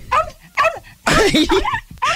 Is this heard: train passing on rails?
no